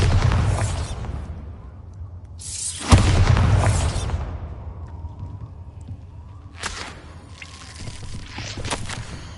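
Spell blasts in Hogwarts Legacy on PS5, with a Bombarda explosion among them: a booming burst with a long rumbling tail, then later, sharper cracks and whip-like bursts, all loud against quiet game ambience.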